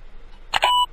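Cartoon frog band in a Dora the Explorer click-and-play game plays a brief electronic tune: two quick bright bleeps, the second held as a clean tone, loud and alone.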